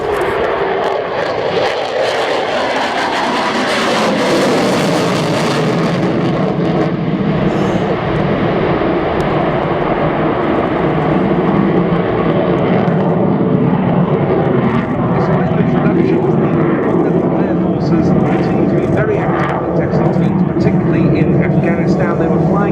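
A jet on a low approach at the RIAT airshow roars loudly and steadily throughout, its engine noise swelling as it passes close by, with a commentator talking over it.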